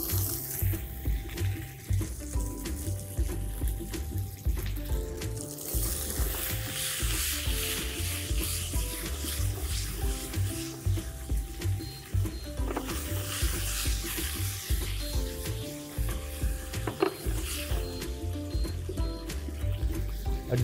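Wedge-cut potatoes and cherry tomatoes sizzle steadily in a hot pan, a loud continuous frying hiss with occasional stirring and clatter throughout.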